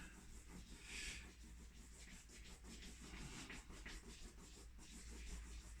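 An eraser rubbed back and forth on paper to blend colours, heard as a soft, close, continuous scrubbing with rhythmic strokes, quiet and alone.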